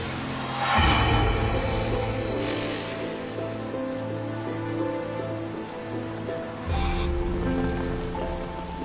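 Steady, dense rain pours down without a break, a broad constant hiss with a few louder surges, no voices.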